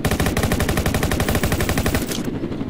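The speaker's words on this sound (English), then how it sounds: "Let's try the rifle." Rapid automatic rifle fire in the Roblox game Jailbreak, a loud, dense, continuous burst of rattling shots that runs for about two seconds and then stops abruptly.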